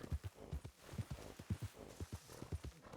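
Horse hooves clip-clop at a steady walking pace across desert ground in a Red Dead Redemption roleplay game, the beats close, moderately loud and evenly spaced with no voices over them.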